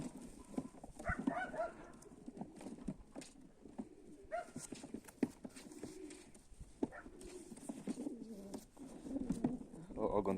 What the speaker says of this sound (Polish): piękny gołąb na grubym dziobie